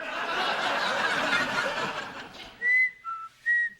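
A person whistles three short, clear notes close by in an indoor sitcom living-room scene, following a stretch of broad background noise and laughter.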